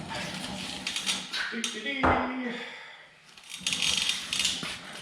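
Clinking metal tool sounds while a tie rod crown nut is tightened on a Jeep Wrangler, with a socket handled and ratcheted in a brief burst of clanks mid-clip, someone speaking faintly in the background.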